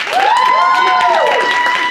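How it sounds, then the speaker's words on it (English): An audience at a comedy hypnosis show clapping in a dense, steady patter, with a sustained sliding tonal sound rising over the applause. "Clap your hands if you think they have the best excuse."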